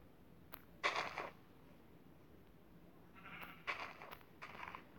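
Sheep bleat outdoors, one drawn-out call early on followed later by a cluster of two or three shorter bleats, moderately near over a quiet background.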